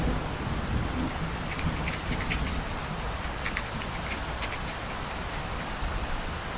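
Steady rain hisses and patters across the whole stretch, a constant broadband wash with scattered brighter droplet hits near and around, alone and at an even level throughout.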